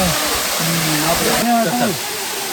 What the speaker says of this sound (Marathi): तर मंडळी आपण तुम्हाला खास मी धबधबा दाखवण्यासाठी आलो होतो